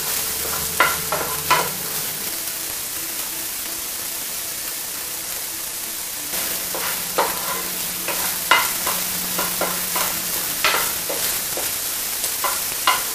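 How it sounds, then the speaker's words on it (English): Pork that is already fully cooked sears in a pan of hot oil, giving a steady sizzle with repeated sharp crackles and stirring clatter, loud and close, with no voices. "let's go ahead and add this pork in to our hot oil. The idea here is I just want to sear it"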